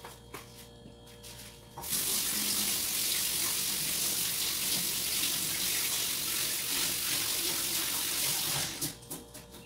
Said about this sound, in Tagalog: make sure na hugasan muna natin. In English, wash, wash first